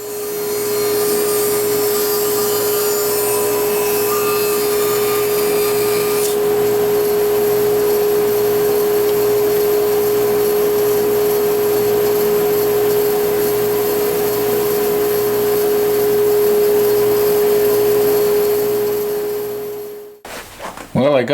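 A Laguna Resaw King bandsaw resaws a wood board in one long, steady cut: a loud constant motor whine and rasping blade noise that runs unbroken for about twenty seconds, then stops abruptly.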